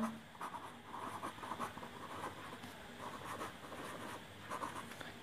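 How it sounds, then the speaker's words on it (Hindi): Marker or chalk writing on a board during a grammar lesson: faint, soft scratchy strokes in short irregular bursts, with quiet room tone and no voice. "तो यहाँ पर भी आप लिख सकते हैं"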